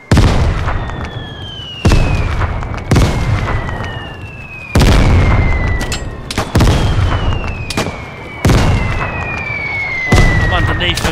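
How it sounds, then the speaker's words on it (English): Mortar rounds slam down in the multiplayer survival shooter Vigor, about seven loud, close explosions in quick succession, one every second or two, with thin falling whistles trailing between the blasts. "they're dropping mortars on us"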